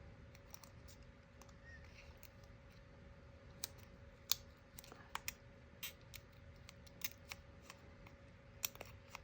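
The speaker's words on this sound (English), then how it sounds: "These little curved scissors are really handy when it comes to things like" Small curved scissors snipping through a piece of material, a steady run of quiet, sharp clicks and cuts, close by and faint, with no talk.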